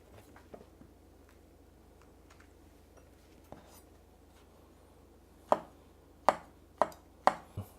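A knife cuts king oyster mushrooms lengthwise on a board for a spicy mala stir-fry, giving a few sharp, close taps that come in a short cluster near the end after quieter handling noise.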